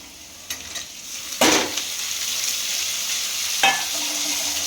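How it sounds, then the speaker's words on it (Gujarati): Onions with tomatoes frying in a pan give a steady close sizzle, with a few louder bursts of stirring or scraping rising over the hiss. "ડુંગળી એડ કરી દીધી છે મેં અહીંયા. એને પણ ગોલ્ડન બ્રાઉન કલર થવા દેવાનું."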